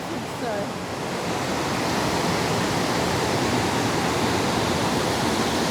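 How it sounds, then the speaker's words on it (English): Waterfall plunging into a deep rock pool in Tasmania, a loud, dense, constant roar of falling water with no break, close by and filling the whole scene. "Oh, they're nice falls."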